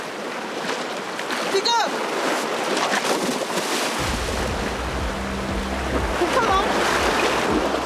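High, rough sea waves surge and crash as divers jump into the ocean, making a constant roar of surf and wind buffeting the microphone, with short shouted exchanges between people over the noise.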